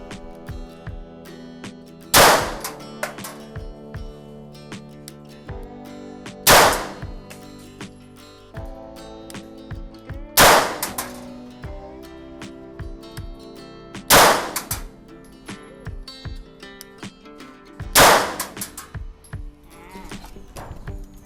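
A Glock 19 pistol fires at an outdoor shooting range, five loud, sharp shots spaced roughly four seconds apart, each followed by a brief ringing decay over a low background murmur.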